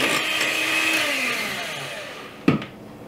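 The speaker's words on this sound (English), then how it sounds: "So first up, we're gonna mix our heavy cream until it's mostly stiff" Electric hand mixer beaters whipping heavy cream toward stiff peaks, a steady continuous whir that holds for most of the stretch, then a short knock near the end before the motor hums on.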